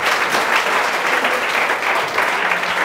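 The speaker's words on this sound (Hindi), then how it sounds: "एक बार ताली मारिए आप लोग" A room of students bursts into sustained applause, dense overlapping claps close by and loud, holding steady for the full few seconds with no talking.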